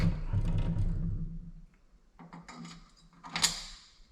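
Metallic mechanical rattling and scraping on a trailer hitch, then a short pause followed by a sharp, bright click as a locking hitch pin snaps into place.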